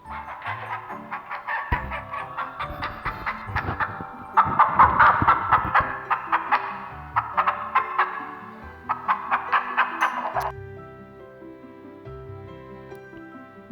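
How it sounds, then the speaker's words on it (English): A hen clucks in rhythmic runs of short, clipped notes that rise into louder, busier bursts midway. Sparse, softer clucking follows in the last seconds. "Hen."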